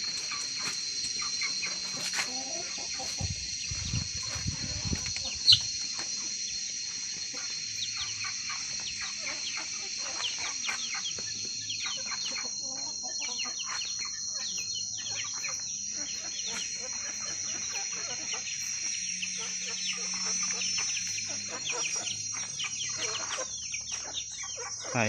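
Chickens cluck on and off over a long stretch, soft and somewhat distant, with scattered calls and a steady background hiss.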